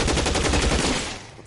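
Video game gunfire: a loud rapid burst of shots, fading out toward the end.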